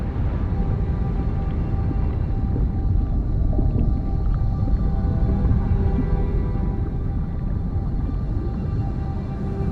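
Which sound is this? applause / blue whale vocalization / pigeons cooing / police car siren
blue whale vocalization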